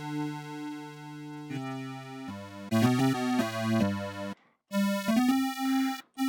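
Buzzy detuned unison tones from a Roland JX-8P synthesizer play a short sequence of held notes and slides, thick and slightly wavering, with a brief silence near the end.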